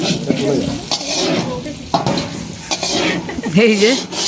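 Green peas lightly frying in a pan for khichuri at an outdoor picnic, a loud close sizzle with repeated scraping stirs of a spatula, and a voice briefly heard near the end.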